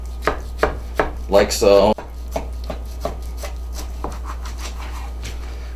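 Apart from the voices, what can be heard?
knife cutting pork steaks while butchering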